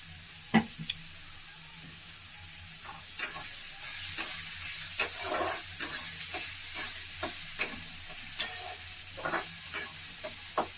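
Chopped onion frying in a pan for a Maharashtrian chana dal and onion dish, with a soft steady sizzle broken by repeated sharp scrapes of a spoon stirring at irregular intervals, close and fairly quiet, no talking.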